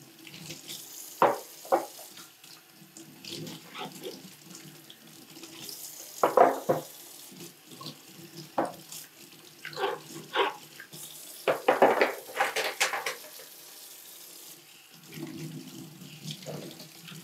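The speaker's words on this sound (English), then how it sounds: "Right, so I'm rinsing them off now thoroughly." Tap water running steadily into a sink as inhaler spacer devices are rinsed, with soft splashes and clunks of plastic under the flow, close and fairly quiet, no talking.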